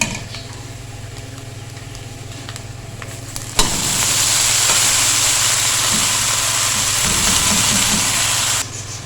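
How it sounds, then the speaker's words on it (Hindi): Fenugreek leaves (methi) hit a hot pan with ginger and burst into a loud, steady sizzle and hiss that holds for several seconds before dropping away abruptly, following quieter cooking noise. "अब इसमें डालेंगे मेथी।"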